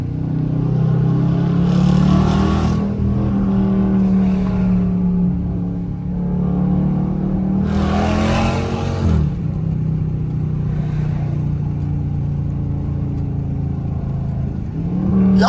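Loud R/T car engine at a Las Vegas car meet, revved hard twice with long throaty pulls and crackling bursts, then settling into a heavy rumbling idle close by, without talking.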